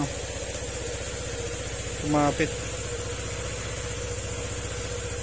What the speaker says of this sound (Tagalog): tahimik na tahimik yung kanyang makina